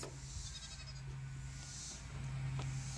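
Nigerian Dwarf goats bleat faintly on a farm, a soft sustained low call running through most of the moment over steady background hum.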